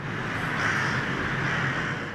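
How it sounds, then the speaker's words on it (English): Crows caw in Tokyo, a few harsh, drawn-out calls overlapping each other at moderate distance with no talking. "The crows are here."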